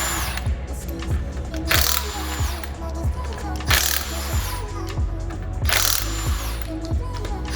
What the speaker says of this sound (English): what we have here is an electric impact. We're going to remove the lug nuts and remove the wheel and tire assembly to change the tire.